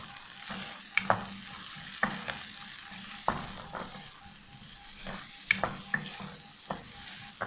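Fried onions and chicken sizzle in a pan for chicken jalfrezi, a soft, steady frying hiss broken by repeated scraping strokes and clanks of a spatula as the mix is stirred, close and without talk.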